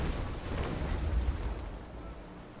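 A sailing warship fires a cannon broadside in the naval game Naval Action, heard as a deep, rumbling series of blasts blending into one sustained roar with heavy low-end boom, fairly distant and without talk.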